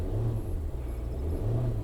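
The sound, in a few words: Range Rover engine revving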